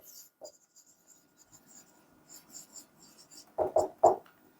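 Marker or chalk writing on a board in a chemistry lecture, with soft scratchy strokes in short bursts that build to three louder, firmer strokes near the end, close by and with no speech.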